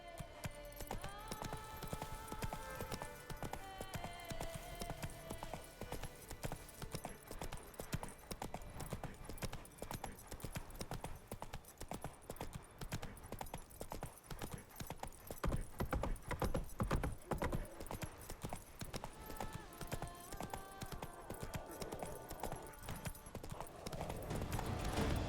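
Hooves clip-clop steadily as a horse gallops in the Witcher video game, the rhythmic beats running continuously over a dense bed of game music, with occasional whinnies near the end.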